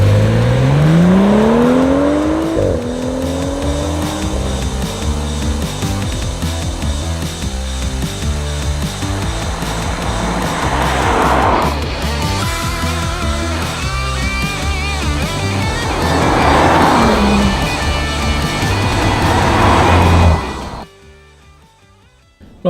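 A BMW M235i accelerating hard, its engine rising in pitch through several quick paddle-shifted gear changes, loud and close from inside the car, before cutting off abruptly near the end.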